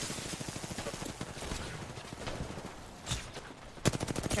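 Rapid automatic gunfire from an Apex Legends match, dense bursts of shots running steadily through the clip, with a couple of sharper, louder cracks near the end and no talk over it.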